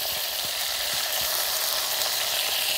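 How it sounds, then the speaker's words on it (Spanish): Beef for Mexican-style bistec frying in a pan and being stirred, giving a dense, constant sizzle with soft stirring taps throughout, close and steady, with no voices. "Voy a revolver todo."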